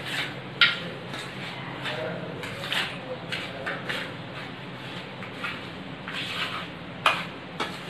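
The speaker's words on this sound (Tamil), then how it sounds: "நாம் இதை வந்து நல்லா கலக்கிடலாம்." Spoon scrapes and taps against a pot as ghee is stirred into rava laddu mixture, soft repeated clinks at an uneven rhythm, close by with no talking.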